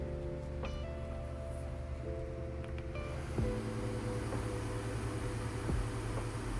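The cooling fans of a Triton gaming laptop roar with a constant broadband whoosh, carrying faint steady tonal whines and a few light clicks, and no one speaks.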